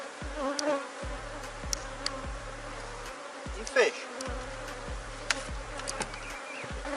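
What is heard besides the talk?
honey bees buzzing around a beehive box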